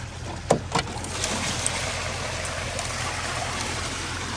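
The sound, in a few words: water being let out, draining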